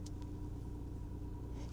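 Steady low rumble of a car engine and road noise from inside a vehicle on a journey, constant and moderately loud throughout, with no talking.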